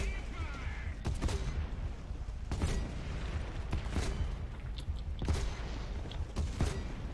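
Grenade launchers fired one at a time from a top-tier British tank in a video game: sharp, separate bursts repeating every second or so over a steady engine rumble.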